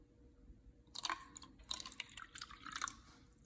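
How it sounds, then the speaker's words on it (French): Water trickles and splashes lightly into a container of olive oil in brief, faint bursts, quiet and close with soft gaps between pours. "Ici, j'ai l'huile d'olive et je vais ajouter de l'eau"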